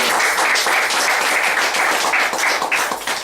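Sustained applause from a graduation ceremony audience, steady dense clapping that holds for a few seconds and eases slightly toward the end.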